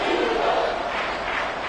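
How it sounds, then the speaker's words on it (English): Stadium crowd roaring at an Eagles vs Commanders football game during a third-and-goal play, a dense sustained wall of cheering and shouting from thousands of fans, loud and continuous. "This crowd doing all they can."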